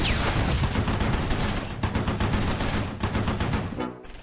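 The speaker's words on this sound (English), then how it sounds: "Lassen trades shots with the Sturmgeschütz." An exchange of gunfire with a Sturmgeschütz assault gun in Close Combat 4, Battle of the Bulge at Simmerath: loud, dense rattling bursts of small-arms and cannon fire in a continuous volley that cuts off abruptly near the end.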